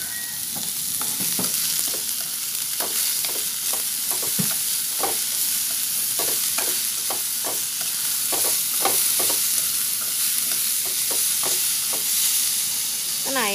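Vegetarian filling stir-fried in a pan, with rhythmic scraping strokes of a utensil over a steady oily sizzle, heard close and alone.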